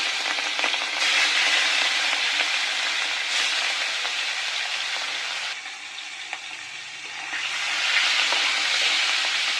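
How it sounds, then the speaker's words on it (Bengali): Shrimp frying in hot cooking oil for a turnip dish, a loud dense crackling sizzle that dips midway and then swells again, heard close and with no voices. "চিংড়ি মাছগুলোকে এবারে ভালোভাবে ভেজে নেব।"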